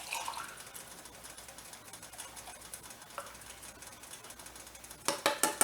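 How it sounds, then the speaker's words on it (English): Water mixed with leftover bean juice is poured from a can into a soup pot, making a steady, soft splashing trickle that ends in a few louder sloshes near the close. "I'm just shaking it up, and I'm going to pour it in this in because there's still bean juice down in there"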